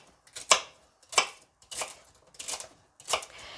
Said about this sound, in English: And then I'm just chopping them.